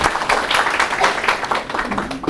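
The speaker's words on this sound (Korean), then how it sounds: "선생님을 큰 박수로 환영해 주시기 바랍니다." A seated audience at a philosophy lecture applauds to welcome the speaker, uneven clapping from a modest crowd that swells and thins in close bursts.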